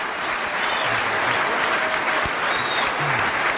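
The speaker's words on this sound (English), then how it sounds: "Let's give them a round warm of applause" An audience at a symposium breaks into loud, sustained applause, a thick continuous roar of clapping from a large crowd with faint voices blended underneath.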